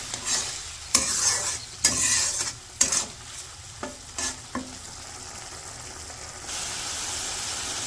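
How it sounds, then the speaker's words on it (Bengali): Masala of turmeric, chili and cumin powder is sautéed in a pan: about half a dozen sharp scraping strokes over a constant hiss of frying, with the sizzle swelling louder near the end. "এখন হচ্ছে মশলাগুলো একটু ভালো করে কষিয়ে নিই।"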